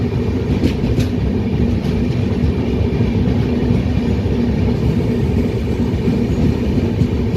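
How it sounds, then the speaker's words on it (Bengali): A train rumbles steadily through tunnels near Sevoke on the line toward Sikkim, a loud continuous roar with faint rail clatter and no voices. "অসংখ্য টানেলের মধ্য দিয়ে ট্রেন ছুটে যাবে"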